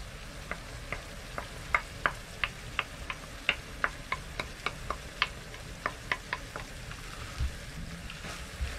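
Green beans and carrots are gently stirred into shepherd's pie filling in a pan aboard a narrowboat, with a soft sizzle under a run of light, evenly spaced clicks and taps from the spoon.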